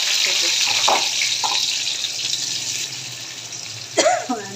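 Onion, garlic and green chillies frying in hot oil, a steady close sizzle throughout, with a sharp clatter near the end.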